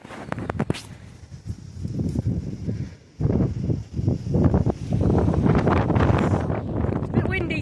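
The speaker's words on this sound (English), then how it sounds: "It's a bit windy today." Strong gusts buffet the microphone outdoors at a riding race, rumbling in uneven bursts with a brief lull midway, while voices talk underneath.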